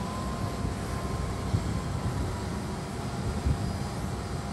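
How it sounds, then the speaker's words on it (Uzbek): Airplane departing after an official state visit, a steady broad jet engine roar held at a moderate distance, continuous and even without any talk. "Shundan so'ng samolyot Fransiya poytaxti tomon uchib ketdi."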